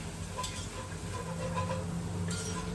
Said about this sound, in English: keep moving it, keep whisking